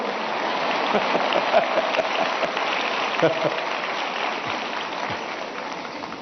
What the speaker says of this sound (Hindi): देखो ये आपकी पसंद की बात आई तो ताली बजाते हो आप लोग।